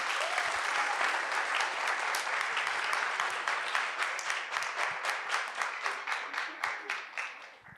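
Applause from an audience at a televised debate on Armenia's constitution as a participant is welcomed, a loud, dense round that thins into slower, rhythmic clapping toward the end.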